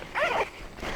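A single quick zip on the side zipper of a Kifaru Crater hunting backpack, a short close rasping pull followed by faint handling noise.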